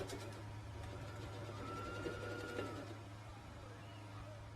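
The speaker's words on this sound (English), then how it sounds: "It can do normal straight sewing." A tailoring sewing machine running straight stitching, a steady mechanical whir with a constant low motor hum and fine rapid needle ticking, fairly quiet and continuous throughout.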